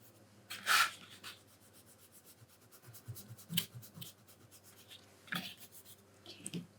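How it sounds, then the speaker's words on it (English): A Mars Staedtler eraser rubbing out pencil marks on a clamshell preservation box, quiet scattered scrubbing strokes in short bursts, close and soft against a faint hum. "I'm just gonna erase this with a Mars Staedtler rubber."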